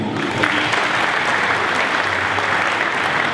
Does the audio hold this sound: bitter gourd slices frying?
no